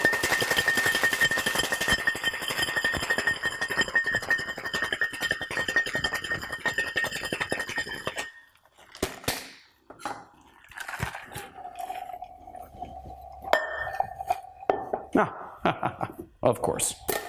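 Ice rattles hard and rapidly inside a cocktail shaker for a French 75, a loud dense clatter for about eight seconds, then stops, followed by scattered clinks and pouring sounds.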